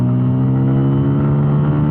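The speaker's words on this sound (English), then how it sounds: "I've just turned on the bike and you can hear the sound" A Bajaj Pulsar P150 motorcycle engine drones steadily while accelerating in second gear, a loud, close, even hum with strong low harmonics and no voices.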